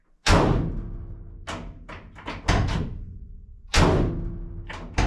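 A van's passenger door without sound deadening slams shut several times, each loud, hollow thud ringing out briefly before the next.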